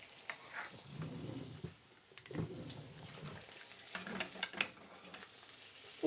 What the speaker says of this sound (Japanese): 油分が少ないなと思う食材だったら少し多めに油を入れて焼くと、綺麗に皮が綺麗に焼けるので